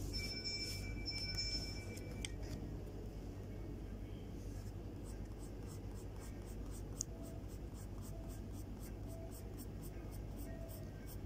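A pencil draws a ponytail hairstyle by hand on paper, soft scratchy strokes repeating in a quick, even rhythm, close and faint over a low background hum.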